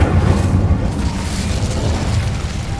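Incendio fire spell cast in Hogwarts Legacy, a loud, sustained low roaring burst of flame that fills the whole moment with dense rumbling energy, no voices over it.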